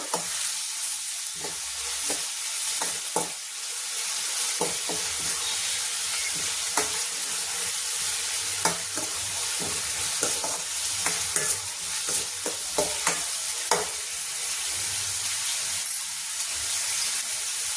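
A small medium-size onion fries steadily in a pan for a mushroom gravy, a constant close sizzle broken by frequent scraping and clicking stirs.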